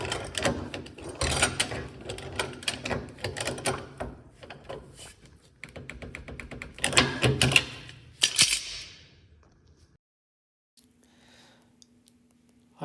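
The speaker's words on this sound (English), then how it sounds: "I'm going to go around and check all my link bolts, mounting bolts, adjustment bolts," A wrench works over the bolts under an off-road vehicle, giving repeated bursts of ratcheting clicks and metallic rattles in uneven runs that fade out into near silence, with a faint low tone at the very end.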